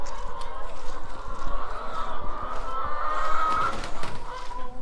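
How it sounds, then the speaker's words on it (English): Chickens loose outside their coop clucking and calling in short bursts, with some wing movement and background noise, fairly close throughout. "How'd all these chickens get out?"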